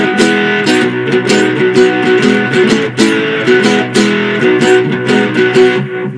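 A steady, dense four-string cigar box guitar riff played backwards, with reversed-sounding swells, repeating in a loose rhythm at a constant loud level.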